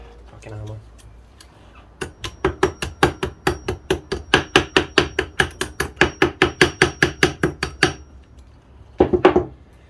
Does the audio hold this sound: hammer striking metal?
yes